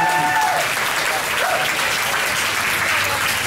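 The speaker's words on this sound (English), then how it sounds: "so let's give the contestants another round of applause." A live audience at a local singing-contest final gives the contestants a loud, continuous round of applause, with a faint voice briefly audible beneath the clapping.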